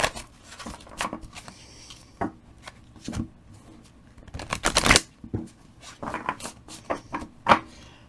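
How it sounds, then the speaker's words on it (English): Tarot cards being shuffled in quick bursts of crisp riffling and flicking, with brief pauses between rounds, close up and fairly quiet. "Now they're nice and soft and I can shuffle them."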